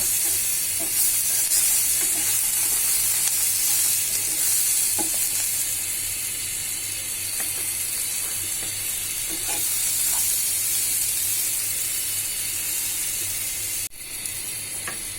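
Chopped onions fry in hot oil for a Bengali rohu fish bharta, giving a continuous close hiss and sizzle with faint occasional stirring taps. The sizzle stays level and fills the whole stretch, with no talking.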